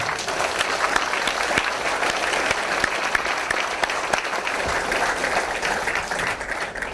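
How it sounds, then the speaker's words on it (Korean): Sustained audience applause at a political party founding ceremony, dense steady clapping from a large crowd throughout, with no talk over it. "진심으로 감사와 환영의 박수를 드리겠습니다"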